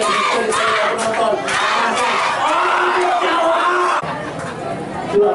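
Dense, roaring crowd at a football stadium in Indonesia during a local tournament match, a continuous wash of shouting and cheering that holds steady, dips slightly near the end, then swells again, with voices chattering throughout.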